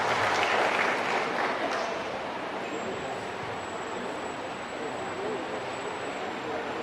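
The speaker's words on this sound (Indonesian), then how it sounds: "Tepuk tangan buat Pak Dimyati" An audience claps for Pak Dimyati, Vice Governor of Banten, at an AGPAII inauguration ceremony in Tangerang. The dense, steady applause fills the room, is strongest at the start, then eases slightly and runs on with a thin high tone above it.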